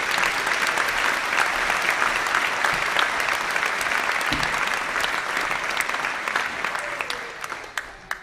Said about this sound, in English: Please give a huge round of applause to all of our graduates